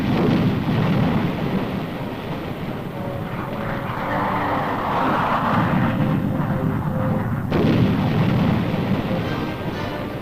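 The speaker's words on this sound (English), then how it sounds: "This group is watching a version of the napalm bomb, jellied gasoline that cuts down everything in its path." A napalm bomb of jellied gasoline explodes in a military demonstration, a loud, sustained roaring rumble of fire that swells and churns for several seconds on an old, hissy recording.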